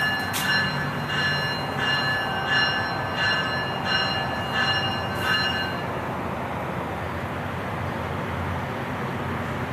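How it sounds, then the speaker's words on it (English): A VRE commuter train pulls out of a station, a steady rumbling roll of railcars with a rhythmic series of ringing clicks over the first six seconds before the sound settles into continuous wheel noise. "It's time for the train to head on out."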